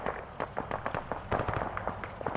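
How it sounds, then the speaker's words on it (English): Friendly mortar rounds firing in the military shooter Arma 3, a rapid cluster of short, fairly faint thuds and pops, spaced irregularly at a distance. "That is friendly outgoing mortars on that position."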